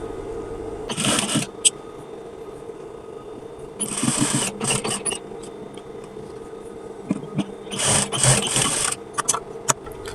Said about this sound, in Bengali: এই পাটটা এভাবে উল্টিয়ে নেব উল্টিয়ে নিয়ে এদিক দিয়ে এদিক দিয়ে সেলাই দিয়ে দেব